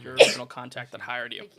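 A single sharp sneeze bursts out close and loud at the start, followed at once by a person talking.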